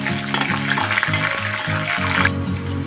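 Green chilies and curry leaves frying in hot oil for a cabbage fry, a steady close crackling sizzle with a rhythmic tonal hum underneath, short and without talk.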